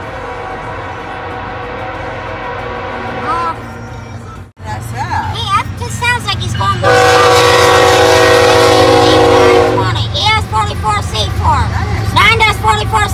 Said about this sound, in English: Okay, same crossing, different train.